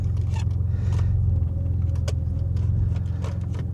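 Flood-damaged Maserati car driving around the block, heard from inside as a steady low engine and road rumble with a few faint clicks and rattles, no talk.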